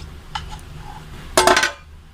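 A lid is set down on a pot of puliyodharai, giving one short, bright metallic clatter of a few rapid clinks up close, preceded by a couple of faint taps.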